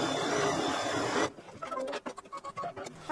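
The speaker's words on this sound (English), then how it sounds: "I'm going to do a thread color change to make the placement line for the bone." An embroidery machine sews a placement line for an in-the-hoop quilted stocking, first a loud dense whirring burst, then after a pause a series of short rhythmic stitching pulses close by.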